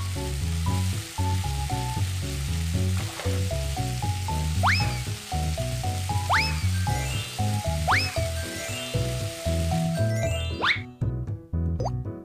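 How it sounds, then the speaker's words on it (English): Ham sizzles in a pan in a BabyBus children's cooking game, with looping cheerful game music, bright rising sparkle effects and chimes over the frying sound. "It's time to fry the ham."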